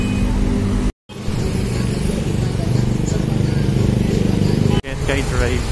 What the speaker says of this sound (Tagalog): Sa bagay kasi ano, national road to, kaya ganito ka traffic malala.